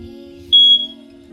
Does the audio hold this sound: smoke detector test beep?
yes